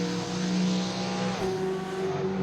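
BMW E36 with a Judd V8 race engine in the Assetto Corsa hill-climb game, a loud sustained engine howl with a shifting pitch that drops partway through, heard alone without talk.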